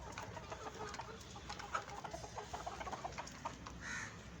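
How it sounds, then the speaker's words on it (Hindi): Golden Misri desi hens, an Australorp cross breed in a flock of about 140 hens and 20 roosters, cluck faintly and repeatedly in the distance over a soft background hum. "ये जी हैं गोल्डन मिस्री देसी मुर्गियाँ"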